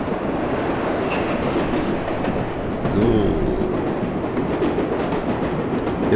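Subway train running through a tunnel in World of Subways Vol. 4, a continuous loud rumble with rhythmic rail clatter and occasional squeals, steady throughout with no voices.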